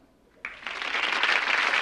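Studio audience breaks into applause on cue from an applause sign during a TV talk show taping, starting abruptly and swelling into sustained, dense clapping.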